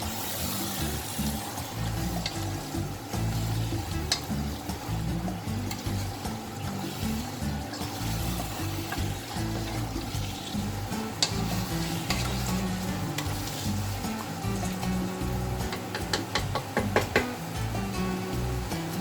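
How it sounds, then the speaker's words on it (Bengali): Meat being slowly stirred and mixed with spices in a pan for a goat meat curry, a steady sizzle under scraping spoon strokes and occasional knocks against the pan, continuous and fairly close, with no talk. "এবার সম্পূর্ণ মাংসটাকে মশলার সঙ্গে ধীরে ধীরে মেশাতে হবে।"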